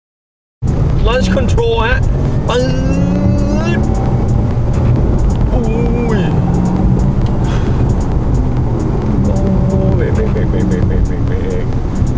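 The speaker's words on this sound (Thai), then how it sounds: "ผมจะพาทุกคนไปซิ่งนะครับ Porsche Taycan นะครับ" A Porsche Taycan electric car driving fast, with a steady loud rush of road and motor noise and rising, falling whine tones running throughout, while people talk over it.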